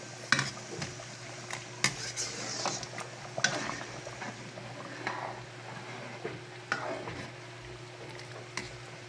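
A spoon stirs dinuguan, a Filipino pork blood stew, in a cooking pot, with scattered metallic scrapes and clinks against the pot over a steady low hum, close and moderately quiet.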